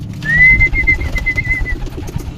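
A pigeon gives a clear, sustained call lasting about a second and a half at a feeding spot, close and distinct over low background rustle.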